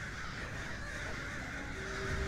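Raven cawing in the online role-playing game The Elder Scrolls Online, faint calls set against a steady background hum.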